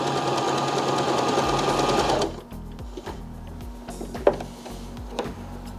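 A Baby Lock Zest home sewing machine stitches through dual-layer fabric, first as a loud, steady whir, then slowing into rhythmic mechanical clacking with a few sharper knocks near the end.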